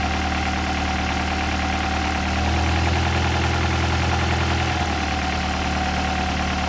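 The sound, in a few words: Honda Prelude engine idling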